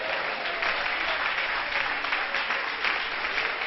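A church congregation applauds in praise of Jesus Christ: continuous, even clapping from many people, held steady without pause.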